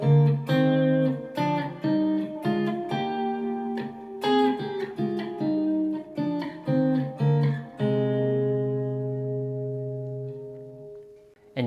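Guitar plays a minor scale in sixth intervals, paired notes picked one after another in a steady rhythm, ending on a long sustained ringing chord; clear and close, with no talking.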